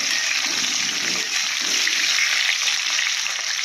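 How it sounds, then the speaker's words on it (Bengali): Potato pieces frying in hot oil in a pan, a loud, continuous close sizzle with no talking. "আমার আলুটাও ভাজা ভাজা হয়ে যাচ্ছে"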